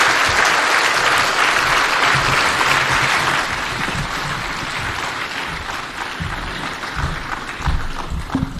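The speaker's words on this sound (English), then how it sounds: "give a mighty, mighty clap to His Excellency the President" A large crowd applauds the President at an outdoor political rally in Syokimau, Machakos County, producing loud, sustained massed clapping that eases slightly after a few seconds, with some thumps near the end.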